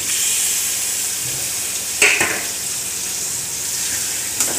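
Grated onions hit hot oil for a chicken curry, a steady close sizzle with a sharp burst of spatter and stirring clatter midway and another brief clink near the end.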